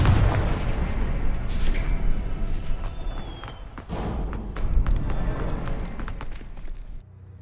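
Confringo fire-blast spells hit symbols in Hogwarts Legacy in quick succession, giving repeated loud booming thuds with sharp cracks and a couple of bright whooshing streaks, then cutting off to quiet.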